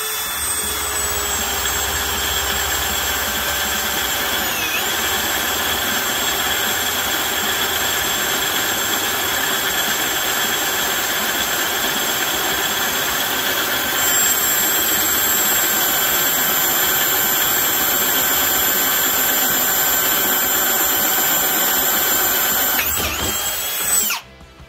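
A Ryobi One+ HP PBLDD01 cordless drill running at speed 1 with a 7/16 bit, a loud, steady high motor whine held for over twenty seconds with a slight pitch dip early on, cutting off abruptly at the end.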